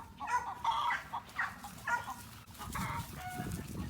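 Chickens cluck and call in short bursts nearby, several birds overlapping, with a low rustling background and a few louder squawks toward the end.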